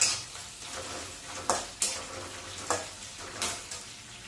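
Onions fry in a pan alongside garlic, a steady sizzling hiss broken by several sharp splashy bursts at irregular intervals, close-up and moderately loud, with no speech.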